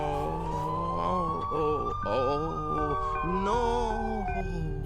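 A police siren sound effect in a meme wails loudly, its pitch rising and falling in long sweeping cycles, with a voice mixed in.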